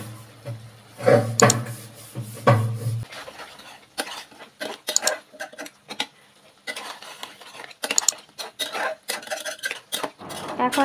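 A spoon scrapes and clinks against a pan while spicy crab curry (kakra bhuna) is stirred and cooked down, making intermittent metallic knocks and scrapes up close with short pauses between them.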